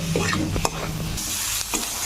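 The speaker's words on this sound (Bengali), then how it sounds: "মাশরুমটাকেও দিয়ে ভালো করে ভেজে নেব।" Mushrooms sizzle in hot oil in a pan while a spatula scrapes and stirs them with a few sharp knocks, close and steady with no talking.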